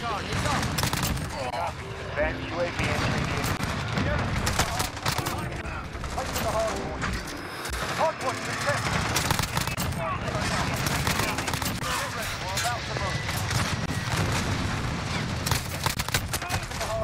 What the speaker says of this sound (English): who are y'all shooting at